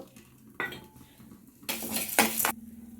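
Coriander seeds, rice, pepper, fenugreek and cumin are dry-roasted in a pan, with a spoon scraping and clinking against the metal in a few close bursts and faint sizzling beneath.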